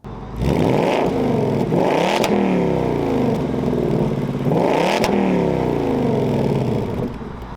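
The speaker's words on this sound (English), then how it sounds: "here is the exhaust in normal mode" A loud 2024 Ford Mustang GT V8 exhaust in normal mode revs up twice, its deep rumble climbing in pitch and dropping back, sustained and close without a break.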